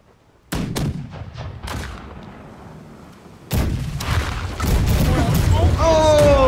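Cannon and gun fire in the pirate ship combat game Blackwake: a burst of loud shots and booms, then a second heavier barrage with sustained rumbling blasts and whistling projectiles, with voices shouting underneath.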